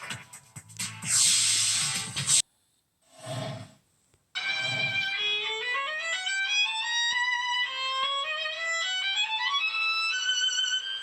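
After a few seconds of hissing and noisy bursts, a solo Stradivarius violin over 300 years old plays a quick, bright run of notes, clear and close.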